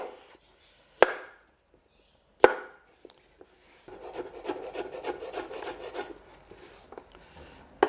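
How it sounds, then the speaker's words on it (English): A kitchen knife slicing shiitake mushrooms on a board: two sharp, isolated knocks, then a longer stretch of soft, steady rasping cuts, close and moderately quiet. "Actually, the shiitake, I think I'm going to slice."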